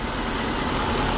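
The 5.7-liter Hemi V8 in a 2022 Ram 1500 Sport GT idles with a steady, close, loud rumble that stays even through the short stretch, with no one speaking.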